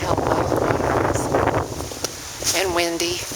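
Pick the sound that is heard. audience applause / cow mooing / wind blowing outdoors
wind blowing outdoors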